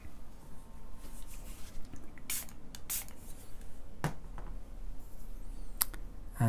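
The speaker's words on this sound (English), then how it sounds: "I need to just spray it." Spray bottle misting water onto a watercolor painting of figures: a few short, sharp bursts of spray separated by quiet gaps, with faint brush and paper rustle between them.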